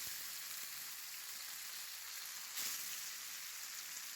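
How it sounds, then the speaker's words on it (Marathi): Poha and fenugreek vadas shallow fry in a small amount of oil in a pan, giving a steady, soft, hissing sizzle with no talking. "कमी तेलामध्ये हे वडे आपण मस्त शॅलो फ्राय करून घेणार आहोत"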